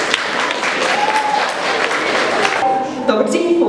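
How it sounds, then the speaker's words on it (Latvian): Audience applause at a talent contest fills the hall as a steady, dense clatter of many hands throughout, with a few faint voices and whistles rising near the end. "aplausi"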